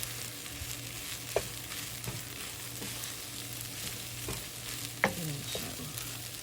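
A spatula scrapes and stirs fried rice in a frying pan over a soft, steady sizzle, with occasional sharper clinks of the utensil against the pan and no voices.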